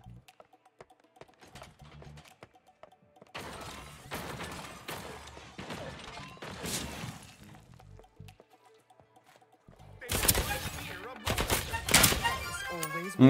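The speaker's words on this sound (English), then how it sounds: "gunshots." Gunfire in the video game Deceive Inc., heard as bursts of loud, sharp shots near the end, after a stretch of quieter in-game clatter and movement sounds.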